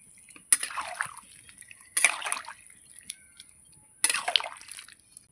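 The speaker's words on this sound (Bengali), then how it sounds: "কষানো আমার হয়ে গেছে, দিয়ে দিচ্ছি জল।" Three short bursts of water splash and sizzle into a pan of prawn and vegetable curry after frying the spices, each pour a brief bright gush separated by quiet, with faint kitchen clatter.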